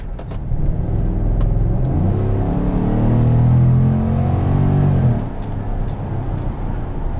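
A 2017 GMC Sierra 1500 SLT All Terrain pickup with a 6.2-litre V8 accelerates from inside the cab, its engine rumble swelling through a rising rev, then easing to a steady cruising drone, with no talk.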